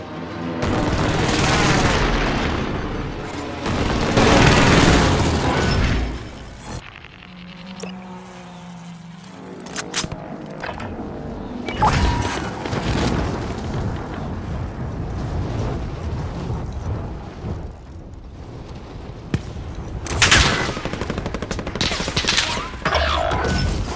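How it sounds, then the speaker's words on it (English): Hostile gunfire erupts in bursts of heavy, rolling shots and booms, loud and chaotic, with quieter stretches of scattered fire and engine noise between the volleys. "Hostile fire."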